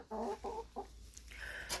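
Several chickens clucking close by after eating grain, in short repeated bursts, with a higher squawk near the end.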